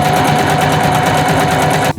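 Sewing machine stitching fabric for a bicycle frame bag, a fast, steady mechanical whir with rapid rhythmic needle clatter, close and loud, stopping abruptly at the end.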